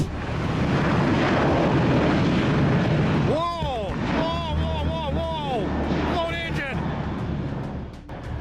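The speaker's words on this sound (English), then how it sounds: "An American Airlines Boeing 737-800 loses a tire while taking off from Tampa." An American Airlines Boeing 737-800 taking off from Tampa and losing a tire, its loud, steady jet roar filling the whole stretch while excited voices cry out over it partway through.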